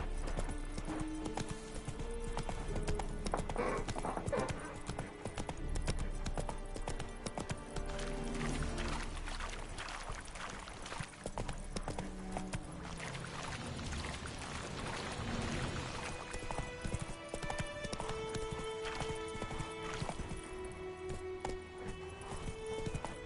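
Roach the horse galloping in The Witcher 3, a continuous run of clip-clopping hooves with some neighing over a game music score, steady and fairly close throughout.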